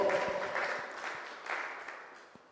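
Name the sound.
church congregation clapping for the Lord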